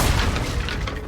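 A Confringo blasting spell explodes in Hogwarts Legacy with a single deep, loud boom, its rumbling body filling the moment before fading, no voices over it.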